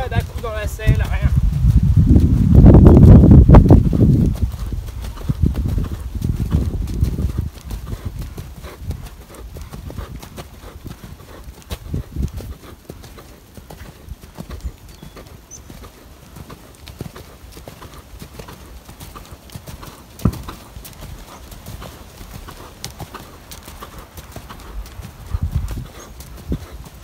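A ridden horse's hooves clip-clop in a steady walking rhythm, loudest early and then softer, while someone talks in French over them.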